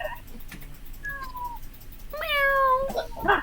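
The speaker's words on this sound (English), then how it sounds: "Meow. There's a cat. Meow." A cat meows several times, with drawn-out, rising and falling cries bunched near the middle, heard close and fairly clear over quiet room tone. A person's voice comes in briefly at the end.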